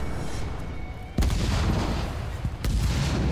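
Units firing weapons in the real-time strategy game Halo Wars 2, with two sharp shot bursts at about one and two and a half seconds over a steady dense wash of battle noise, no talking.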